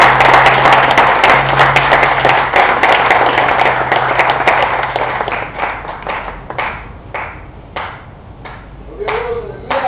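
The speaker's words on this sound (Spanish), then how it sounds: "Dan un aplauso a Cristo, iglesia." A church congregation applauds loudly in dense, overlapping clapping that gradually thins into scattered, separate claps, with a low hum underneath at first.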